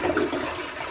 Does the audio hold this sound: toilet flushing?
yes